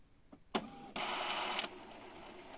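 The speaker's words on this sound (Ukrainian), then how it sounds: "Включився принтер і кнопку Стоп продовжуємо тримати." An Epson L382 inkjet printer powers on with its stop button held down. A soft click is followed by a short mechanical whir that stops abruptly, all faint and close.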